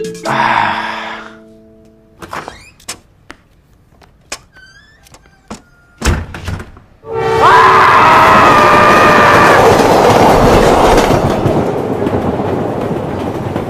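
Interior of a moving train in a horror film: after several seconds of sparse clicks and faint tones, a loud, steady broadband rumble of rolling carriages sets in and continues to the end.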